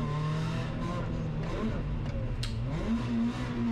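Rally car on a slippery special stage at the Barbórka Warszawska rally, engine note rising and falling as it slides sideways, with a sharp crack midway and a steady revving tone at the end, no talk.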